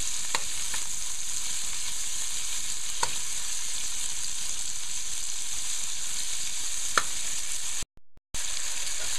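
Mushrooms and shrimps stir-frying in a pan with salt, a steady broad sizzle with a few sharp clicks of the utensil, close and continuous, briefly cutting out near the end, with no talking.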